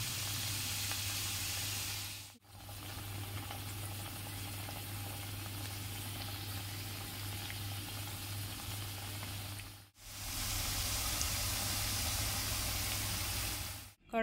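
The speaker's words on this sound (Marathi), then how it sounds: "या बांगड्या जरा तेलात टाकताना आहे ना, जॉईंट पासे दाबून टाकायचे" Kadakni dough rings deep-frying in hot oil give a dense, steady sizzle under a low hum, close and even. The sound cuts out briefly twice, and no one speaks.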